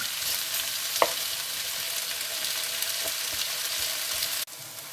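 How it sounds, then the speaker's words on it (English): Courgette slices frying in a pan over medium heat while being turned: a steady, close sizzle with a few soft scrapes and taps from the utensil, then an abrupt cut just before the end. "We're just going to keep turning these until we get a nice even cook."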